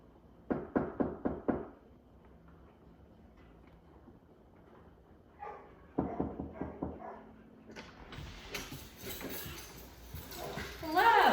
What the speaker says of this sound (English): So now I'm knocking, I'm doing a greeting.